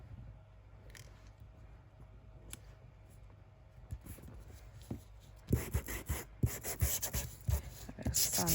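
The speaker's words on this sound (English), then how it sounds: "A bit of sanding." Paper library pocket edges for a junk journal are sanded by hand, soft scattered scratches at first, then quicker, louder rubbing strokes close to the microphone, with no talking.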